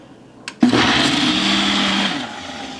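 After a click, a blender making a smoothie whirs to life with a loud, steady high-pitched roar that eases slightly toward the end.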